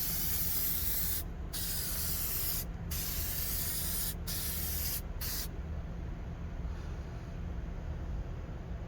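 A coating is sprayed onto a car headlight after wet sanding and polishing, in close, loud hissing bursts broken by several brief pauses before a final steady stretch, with no talking.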